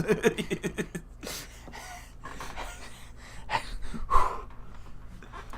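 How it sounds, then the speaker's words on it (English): A video game character panting out of breath, a series of quick rhythmic breaths followed by gasps and heavier breathing, close and fairly loud. "He's out of breath."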